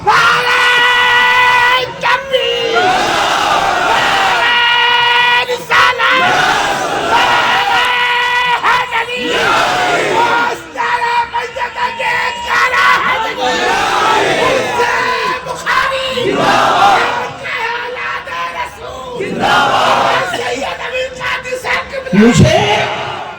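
A large crowd at an Urs gathering roars a religious slogan back in loud, repeated bursts of massed shouting and yelling, swelling and falling in waves over a sustained, reverberant din.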